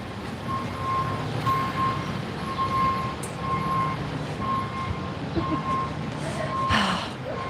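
A reversing vehicle beeps outdoors at a medieval camping event, a steady series of regular electronic tones repeating for several seconds over a low engine rumble and general outdoor noise.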